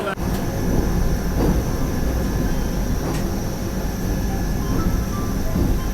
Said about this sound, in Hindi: तिरुनेलवेली जंक्शन से तो अपनी ट्रेन निकल गई है।